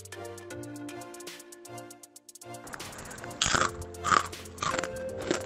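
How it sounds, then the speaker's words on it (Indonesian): Crunchy fried papaya chips are bitten and chewed close to the microphone, with several loud crisp crunches in quick succession following a quieter stretch. "ini kriuk banget, bisa didengar bunyi kriuknya ini"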